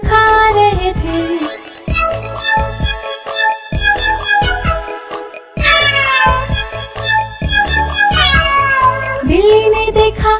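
A cartoon cat meows repeatedly over a bright, bouncy Hindi nursery rhyme melody, the meows landing in a steady rhythm against the music.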